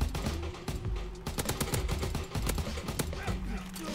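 Rapid bursts of gunfire from Call of Duty WWII, sharp repeated shots and automatic fire crackling almost nonstop through the whole stretch, loud and close with a dense rattle.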